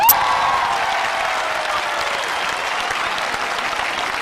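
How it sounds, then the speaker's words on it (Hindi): A crowd at a Smartvalue awards gathering claps loudly and continuously, a thick, sustained roar of applause that holds steady for about four seconds. "आप अपने लिए एक बार जोर से तालियां बजा दीजिए"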